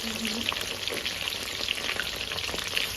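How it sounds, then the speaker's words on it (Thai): Batter-coated shrimp heads deep frying in hot oil, a steady dense crackling sizzle with sharp bubbling pops scattered throughout, close and continuous. "ต้องทอดให้กรอบเลยใช่ไหมคะใช่ค่ะร้อนใช่ไหม"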